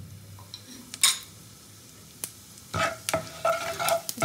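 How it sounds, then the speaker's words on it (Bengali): Whole cumin seeds sizzle quietly in hot oil in a pan. Soft crackles come with a few sharp clinks of a spoon against the pan, and the frying grows a little busier toward the end. "তো প্রথমে আমি জিরেটা দিয়ে দিলাম"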